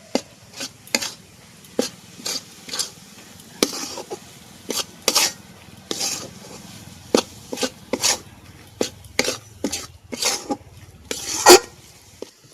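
Besan batter for motichur laddu being stirred and beaten in a pan, giving a steady run of sharp scraping knocks of utensil against metal, fairly close, over a low background hum, with no talk.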